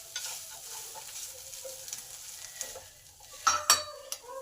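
Cauliflower singara filling with boiled potatoes, peas, sugar and nuts being stirred in a pan, with soft scraping and light sizzling close by and a few sharper clinks near the end.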